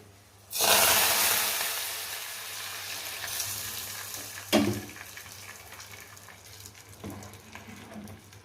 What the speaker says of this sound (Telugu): ఇప్పుడు ఈ తాలింపుని కూడా మనం అందులో పోసేసుకుందాము